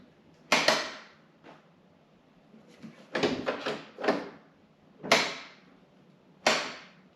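Jeep JL Wrangler rear door carrying a spare tire on a tire carrier swung closed several times, each a sharp solid thunk with rattling latch clicks, spaced over several seconds, close by.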